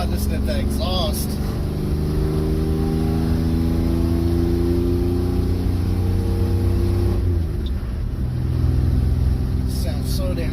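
Deep, steady exhaust rumble from a 1985 Chevy S10 truck converted to a five-speed manual, heard up close with engine pitch climbing in smooth sweeps and dipping briefly; someone talks over the continuous loud idle.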